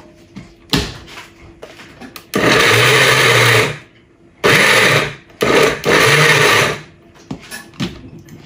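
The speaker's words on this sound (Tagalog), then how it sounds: "kailangan natin ng blender para sa ating sweet corn." A blender blending sweet corn runs in three loud bursts of whirring, separated by short pauses, with quieter clattering before and after.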